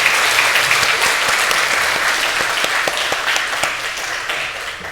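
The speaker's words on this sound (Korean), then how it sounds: "우리 축복하고 사랑하는 마음으로 다시 한번 박수해 주겠습니다." A church congregation at a Sunday morning service applauds the children, a full, even roomful of clapping that holds steady and fades slightly near the end.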